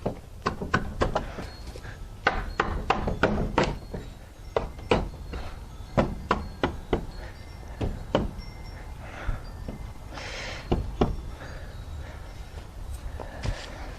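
A wooden window sill part is knocked and fitted into place, with a scattered run of sharp wooden taps and thunks, some in quick clusters, close by at moderate level.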